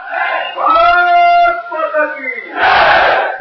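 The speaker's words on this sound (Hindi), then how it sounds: "जनता की इस आवाज ने अन्ना का भी जोश बढ़ा दिया" A large crowd of protesters at an anti-corruption rally shouts a loud chanted slogan in unison, voices rising together in two surges with a brief dip between.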